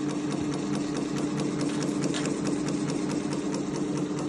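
Industrial sewing machine running steadily at a fast, even rhythm while oil is dripped on during servicing; continuous close mechanical whir with rapid ticking, no voices.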